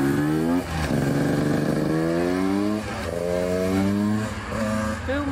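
A 2021 KTM EXC 150 TPI dirt bike engine revs hard and close, rising and falling in pitch through several throttle bursts, loud and buzzy with no talk.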